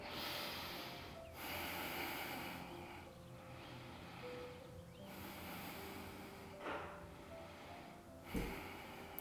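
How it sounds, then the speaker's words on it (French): Slow, deep breaths during a yoga stretch: long airy inhales and exhales in several cycles, close and fairly quiet, with faint background music underneath. "Et on respire."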